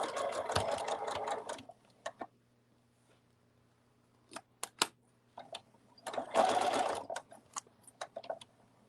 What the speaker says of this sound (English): We're going to sew the little L